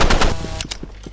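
A rapid burst of gunfire from the Rivals video game, loud and close, followed by a few spaced single shots.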